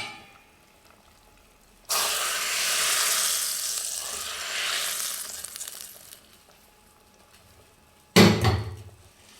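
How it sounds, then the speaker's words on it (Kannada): Hot tempering with cumin and asafoetida poured into ready pumpkin sambar, bursting into a loud hissing sizzle that fades over several seconds, followed by a sharp clang of the pan near the end. "ಸಾಂಬಾರೆಲ್ಲ ರೆಡಿಯಾಗಿರುವಂಥ ಸಾಂಬಾರಿಗೆ ಒಗ್ಗರಣೆನ ಸೇರಿಸ್ತಾ ಇದ್ದೀನಿ"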